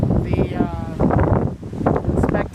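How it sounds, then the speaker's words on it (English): Strong gusts buffet the microphone outdoors at a beehive during a windstorm, a loud irregular rumble with bursts of rustling, while a person talks over it. "because it's so windy out"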